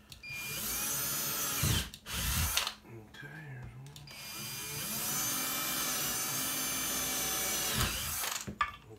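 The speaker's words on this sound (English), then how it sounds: "then we're gonna drill through the mag base plate" A power drill bores through a magazine base plate with a loud, steady high whine that stops briefly and then resumes for a long continuous run.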